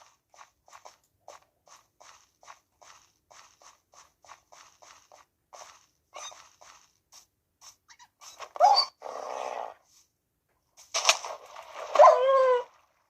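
A wolf in the Minecraft video game chasing a fox: a long run of soft, evenly spaced clicks and pats gives way to a few louder snarling, whining animal bursts near the end.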